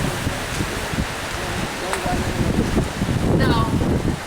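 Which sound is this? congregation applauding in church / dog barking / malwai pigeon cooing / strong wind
strong wind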